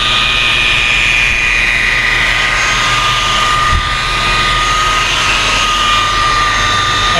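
Car polisher running at 1800 RPM with ACA 520 polish on a classic lowrider's clear coat, a loud continuous whine with steady high tonal hum that stays even throughout, no talking.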